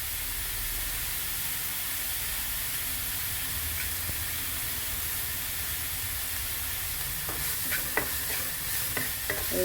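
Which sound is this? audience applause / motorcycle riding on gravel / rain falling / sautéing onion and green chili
sautéing onion and green chili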